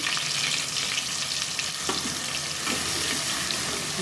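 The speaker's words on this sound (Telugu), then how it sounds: "ఆయిల్ హీట్ అయిన తర్వాత మనం మిక్సీ పట్టుకున్న ఉల్లిపాయ పేస్ట్ వేసుకోవాలండి వేసుకొని ఫ్రై చేసుకోవాలి" Blended onion paste frying in hot oil in a pot for a korameenu fish stew, a loud continuous sizzle with scraping stirs partway through, no voices.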